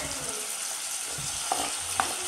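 Potatoes, tomato and carrot hit a hot pan with a steady, moderate sizzle, broken by a couple of brief clinks or taps near the end.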